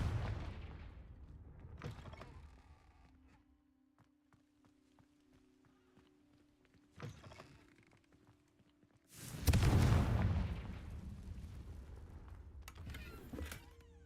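Confringo blasting spell explosions in the video game Hogwarts Legacy: a loud burst near the start, a smaller crack around seven seconds, then a big booming blast at nine seconds that rumbles and fades, with a faint hum between.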